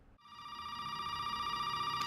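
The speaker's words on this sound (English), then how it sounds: "Now when you pick up the basement key, the phone rings again." A telephone rings in Resident Evil 7, a steady electronic ring tone holding on one bright pitch after a short silence, loud and close with no voices.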